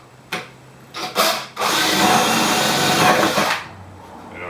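A power drill boring a hole through a cardboard template for a boot and glove dryer: a couple of brief taps, then one sustained whirring bore lasting about two seconds before it stops, close and fairly loud with no talk.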